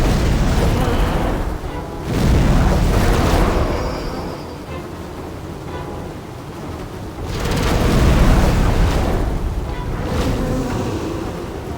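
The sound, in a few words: boss cannon explosions in video game Demon's Souls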